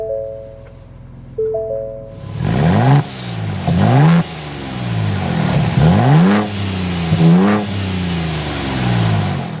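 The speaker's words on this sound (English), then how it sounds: "We need to go inside, start it up, so you can hear that exhaust note." A 2023 Ford Bronco Raptor's engine cranks and catches, then revs up repeatedly with loud throaty exhaust bursts, close and dominant.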